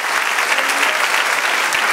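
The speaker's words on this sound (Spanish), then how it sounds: "Denle un aplauso al Señor" A church congregation claps loudly and continuously, a dense even wash of applause during a worship service.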